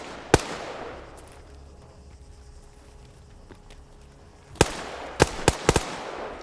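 Grenades explode in the Arma 3 military shooter: one sharp distant blast, then a quiet stretch of faint ambience, then a cluster of four or five loud cracking detonations in quick succession.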